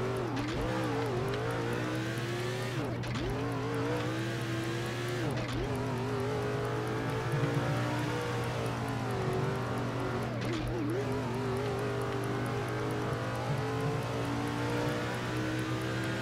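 Stock race car engines in the NASCAR 07 game drone steadily at high revs throughout, with repeated pitch dips and climbs as gears shift, a loud continuous roar with occasional tire noise.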